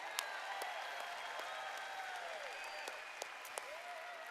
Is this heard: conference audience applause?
yes